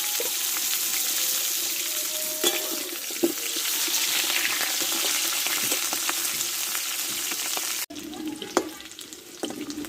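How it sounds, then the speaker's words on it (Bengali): Salted, turmeric-coated potatoes fry in mustard oil in a hot wok with a constant loud sizzle, broken by a few clinks and scrapes of stirring. "আলুটা আমি ভালো করে লালচে করে একটু ভেজে নিয়েছি"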